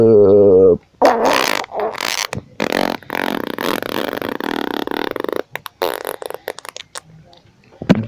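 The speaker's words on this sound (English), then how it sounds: "Whoa, that was a killer fart." A loud, drawn-out cartoon fart sound effect blasts for several seconds, rumbling and sputtering with rough, wet bursts before trailing off in a few smaller puffs near the end.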